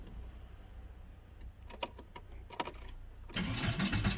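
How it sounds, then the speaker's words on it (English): A VW Bora 1.6 engine with no exhaust pipe fitted: light clicks and a few cranking bursts, then the motor catches and settles into a loud, rough, continuous running roar close by. "So for now I'll be starting the motor"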